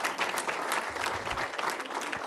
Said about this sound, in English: please, let's give a heartfelt, warm applause to our board of education